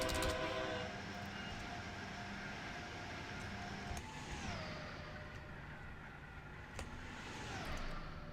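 An Acela Express runs in the game Train Sim World 3. A steady rolling hum and rumble carries through, with tonal whines that bend downward as the speed shifts.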